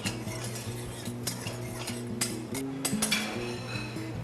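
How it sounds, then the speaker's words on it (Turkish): Steady sizzling of onions in a pan with a spoon scraping and clinking against metal, close by and continuous, no voices. "soğanımızı pembeleşinceye kadar kavuruyoruz."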